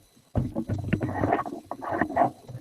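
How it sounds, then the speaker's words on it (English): Close rustling, knocking and scraping handling noise, irregular and muffled, like a microphone arm being moved about, with no speech. "I got to adjust my microphone boom. So you might hear some noise."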